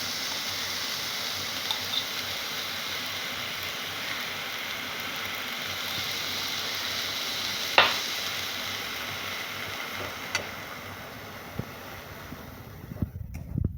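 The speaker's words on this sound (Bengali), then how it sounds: "সব একসঙ্গে কষাবো তো, তাই দিচ্ছি।" Shrimp, potatoes and taro stems sautéing with salt in a pan give a steady, broad sizzling hiss with faint stirring scrapes, fairly close and continuous with no talk.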